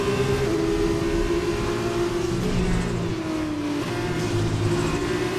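An F2 race car engine in the F2 2020 racing game screams at high revs, its pitch shifting as it changes gear through a corner, loud and steady with other cars droning underneath.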